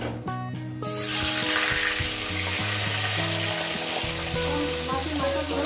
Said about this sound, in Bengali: এবার মাছের মাথাগুলো আমি একসঙ্গে ভেজে নেব।